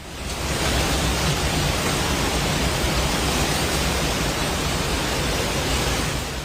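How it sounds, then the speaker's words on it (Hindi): Flood waters in Nepal roar in a loud, steady, broadband rush that holds unbroken for the whole stretch, with no voices. "बाढ़ की लहरें उफान मार रही।"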